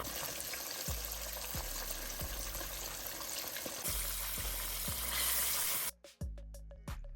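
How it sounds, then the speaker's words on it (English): Whole catfish frying in hot grease, giving a steady broadband sizzle with recurring low thumps and a brighter burst near the end, close and loud with no voices. "Grease is all hot, and as you can see, I'm in here just getting these bad boys in the grease."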